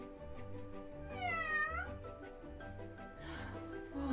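Indoor cat meowing in a few drawn-out, rising and falling calls, close and fairly quiet, with a soft murmur underneath.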